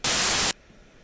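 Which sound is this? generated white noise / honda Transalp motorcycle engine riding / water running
generated white noise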